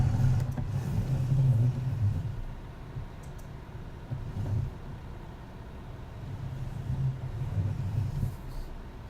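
A farm vehicle in Farming Simulator 2019 rolls over a pile of tyres, its low engine rumble swelling and easing, with a few faint knocks over the steady drone.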